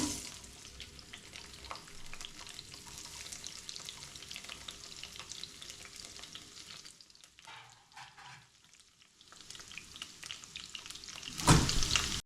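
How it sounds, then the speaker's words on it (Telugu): Onions frying in hot oil for a mixed vegetable curry, a steady close sizzle that dips briefly near the end before a louder burst, with no speech. "ఇప్పుడు నూనె కాగిందమ్మా. ఉల్లిపాయలు వేస్తున్నాను."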